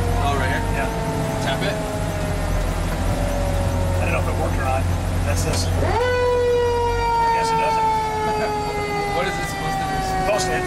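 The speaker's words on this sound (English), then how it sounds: "accidentally hit the siren" A fire truck siren, sounded by accident during a parade, holds a steady tone, then jumps up sharply and slowly winds down, loud and close, over a low engine rumble and background noise.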